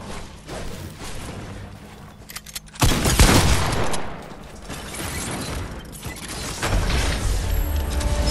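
Mechanical clicks and rattles of a weapon being reloaded in a shooter game, with a loud burst of metallic action midway followed by continued clattering handling noise.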